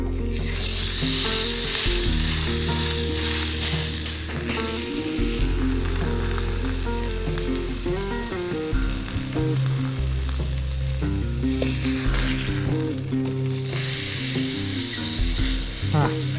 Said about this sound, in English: I'm gonna try and render this fat cap down a little bit.